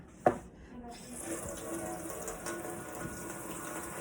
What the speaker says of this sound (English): So I just let the water run and get hot for a minute